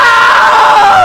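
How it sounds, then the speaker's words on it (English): A loud, sustained high-pitched scream from a woman in the video game What Remains of Edith Finch, held steadily at close range with no other sounds. "Now that was a great scream."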